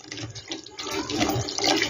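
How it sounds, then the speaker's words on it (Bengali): Water poured from a yogurt bowl into a simmering vegetarian fig kofta curry, a short splashing, bubbling pour that swells slightly toward the end, close and fairly loud, with no talk. "এখানে আমি এবার জলটা দিয়ে দিচ্ছি। এই দেখো আমি কিন্তু এই দইয়ের বাটি দিয়ে জলটা আমি দিয়ে দিলাম।"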